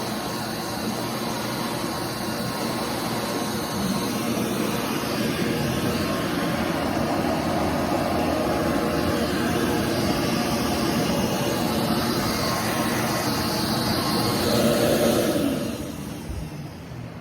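A bucket cyclone dust collector on a router station runs with a loud, steady broadband roar of vacuum suction that holds throughout, then begins to wind down near the end.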